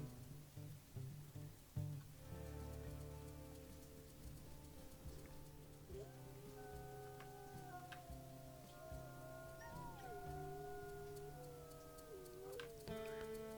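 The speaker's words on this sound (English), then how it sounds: "She hears Cottonwood Creek howling not too far away" Several wolves howl together in a video game (WolfQuest) in long, wavering, overlapping tones that rise and fall, heard at a moderate distance over a steady rain-like hiss.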